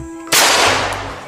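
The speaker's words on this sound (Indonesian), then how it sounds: "Wow, ini warna pistol warna merah teman-teman." A red toy pistol fires close by, a sudden loud bang-like burst that decays over a second, following a brief electronic tone.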